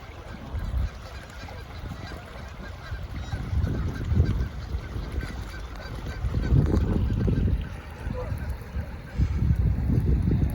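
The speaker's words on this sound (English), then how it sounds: "Lots of geese." Several geese honk repeatedly outdoors, loud and fairly close, in overlapping bursts over a constant low background rumble.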